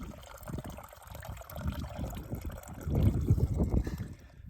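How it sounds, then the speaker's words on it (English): Water pours into a 3-liter hydration bladder during a hot day on the Pacific Crest Trail, a steady close trickle and gurgle that swells louder toward the end. "first we'll top off our hydration bladder,"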